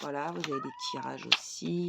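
A cat named Hélios gives a short, plaintive meow in the middle of a woman's speech, which comes on both sides of it in a quiet indoor setting.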